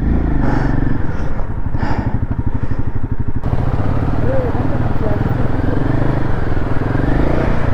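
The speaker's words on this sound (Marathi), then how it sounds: "बाईक अजूनही चालू होत नाहीये" A BMW RR310 motorcycle that won't start, being pushed on a high Himalayan road, sputters and chugs loudly in a fast rhythmic pulse and then settles into a rougher steady running note, with people talking over it.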